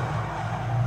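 Tires skid under the handbrake in the rally game DiRT Rally 2.0, a brief, loud, steady screech over engine rumble lasting about a second.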